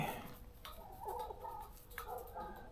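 Guinea fowl on a farm call from a short distance, giving a series of faint, rough, repeated cackling cries over a soft background.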